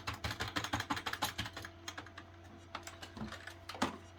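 Rapid typing on a computer keyboard, a dense run of clicky keystrokes that thins into a few scattered taps, with a steady low electrical hum underneath.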